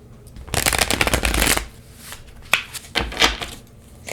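Shadowscapes Tarot cards being shuffled up close: a dense riffling burst for about a second, followed by a few softer taps and card slides as the deck settles.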